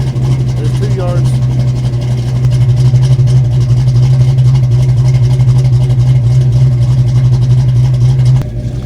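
A Fox Body Mustang V8 fitted with a FlowMaster exhaust idles a couple of yards away, a steady, loud low rumble that runs without a break and cuts off at the very end.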